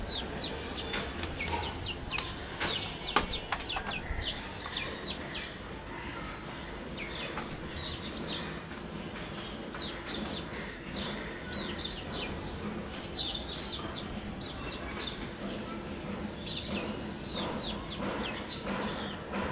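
Chickens cluck and chirp around a backyard coop, with scattered calls from several birds at moderate distance over a steady low background, interrupted by occasional clattering sounds.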